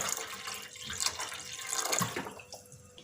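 Water pours steadily into a cooking pot set over medium heat for steaming kebabs, a continuous splashing, gurgling stream heard close up with no talking.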